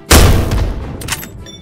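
A loud close gunshot or explosive blast in a Chinese extraction shooter video game, one sharp boom followed by a decaying rumble and a few fainter crackles.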